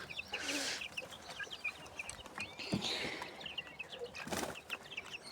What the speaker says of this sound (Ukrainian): Ось такі мої курчатка.